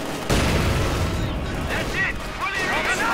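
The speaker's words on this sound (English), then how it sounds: "Grenade going off for the Grenadiers" A rifle grenade exploding amid continuous gunfire and battle noise in Company of Heroes 2, a loud sharp burst rolling into dense crackling fire, with a commentator talking over it.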